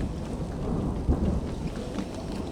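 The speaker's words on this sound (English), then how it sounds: "I'm starting to run out of places to hide from the rain." Rain falls outdoors at a high-altitude Montana campsite, a steady soft hiss with a low rumble underneath and no one talking.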